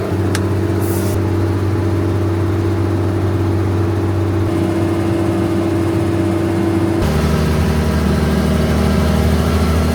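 A tractor engine idles at a grounds maintenance site, a loud steady low rumble that holds throughout and shifts slightly in pitch toward the end, with no talk over it.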